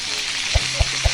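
Cumin and mustard seeds fry in a tempering with garlic, chillies and curry leaves, giving a steady close sizzle with three soft low pops near the end.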